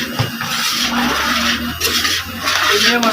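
A large metal scraper is worked around a big langar cauldron of food at a gurdwara kitchen, giving a harsh, continuous grinding scrape with ringing metallic tones and background kitchen bustle.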